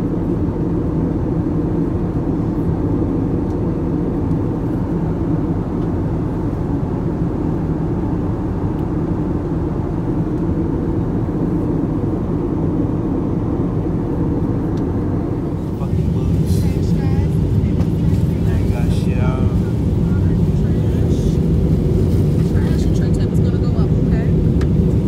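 Steady low engine drone of an airplane cabin in flight, loud and continuous, with the roar shifting and growing rougher partway through as the flight nears landing; faint voices murmur underneath.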